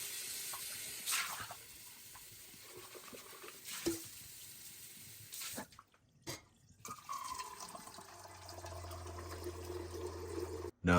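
Filtered water runs into a Nespresso Vertuo Plus water tank during descaling, a soft trickling pour with drips and brief pauses, then a steadier low filling rush near the end; close and fairly quiet.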